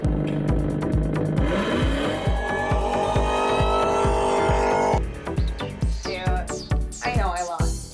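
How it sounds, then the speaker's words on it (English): Dodge Demon race car accelerating hard at a charity red carpet event in Detroit, with a loud rumbling revving engine rising through the gears, then a rougher, more broken stretch of engine noise. "you have to race the Dodge Demon"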